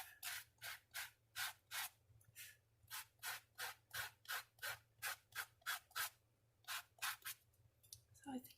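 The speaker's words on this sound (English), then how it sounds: "So just sand it off." Sanding an embossed dandelion card by hand, with about twenty rhythmic scratchy rubbing strokes in a steady back-and-forth pattern, close and fairly quiet over a low constant hum.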